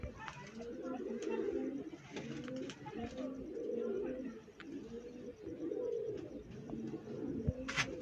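Pigeons coo softly and steadily in a low, rolling, repeated rhythm, with a few faint sharper noises and light background clatter mixed in.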